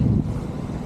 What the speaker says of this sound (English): It's getting a bit windy now, so I'm going to turn the old camera off.